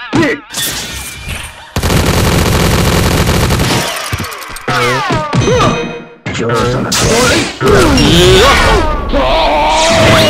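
Rapid video-game gunfire from the Mugen fighting game bursts loudly in dense machine-gun rattles, with breaks between volleys, mixed with game sound effects, chimes and brief shouted voice clips.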